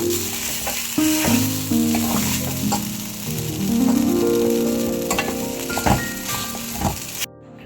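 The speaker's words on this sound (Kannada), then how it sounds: "ಒಂದು 2 ರಿಂದ 3 ನಿಮಿಷ ಚೆಂದ ಕೈ ಆಡಿಸ್ಕೊಳ್ಳೋಣ" Sabudana susla (sago) is stirred in a hot frying pan, giving a loud, steady sizzle with repeated scraping and stirring strokes and no talking.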